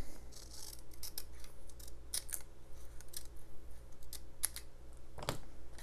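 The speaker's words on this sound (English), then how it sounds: "Then I'm just going to snip across that line." Scissors snip across a marked line in a series of crisp, close cuts spread over several seconds, alone over a steady low hum.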